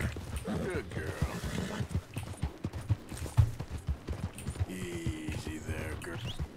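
Horse hooves clip-clop steadily in the video game Red Dead Redemption II, mixed with the horse's whinnies and someone talking over the gameplay.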